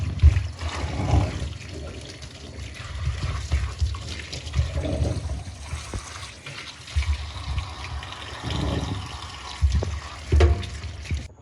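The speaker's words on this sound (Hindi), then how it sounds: "इनको ढंग से धो देते हैं" Tap water runs and splashes unevenly while vegetables are being washed, with gurgling surges and trickles coming close by.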